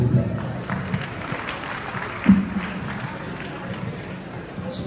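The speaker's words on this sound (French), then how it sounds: "applaudissez s'il vous plaît" Faint audience applause at a Golf Hotel performance event, a soft, distant patter of clapping under room murmur and voices, with one brief louder burst midway.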